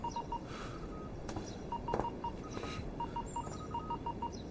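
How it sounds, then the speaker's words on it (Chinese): Telephone dialing tones in a wartime drama scene set during the anti-Japanese war, a series of short repeated beeps in a steady rhythm over a noisy background. "吕座要你接电话。"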